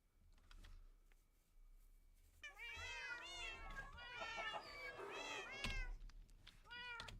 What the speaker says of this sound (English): We will hear all the cats.